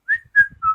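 A person whistles three short, clear notes close up, each slightly lower than the last, with brief gaps and faint background noise between them.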